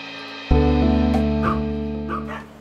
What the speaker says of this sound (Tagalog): kaya tuloy-tuloy yung kahol nila.